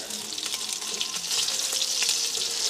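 Food frying in butter in a hot, slightly smoking pan: a dense, continuous sizzle and crackle, close and steady, with occasional spatters and stirring and no talk.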